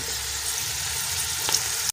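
Onions sizzling in hot oil in a pot while cooking kabuli pulao, a steady close frying hiss heard alone with a faint stir near the end.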